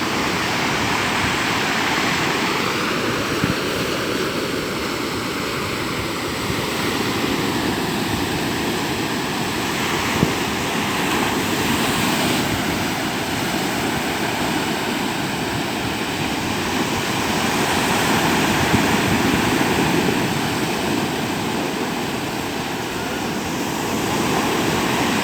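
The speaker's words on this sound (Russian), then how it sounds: "А большая волна интересная" Waves break and wash steadily where a river flows into the sea, a continuous roaring surge of water heard up close, loud and unbroken for the whole stretch without any talking.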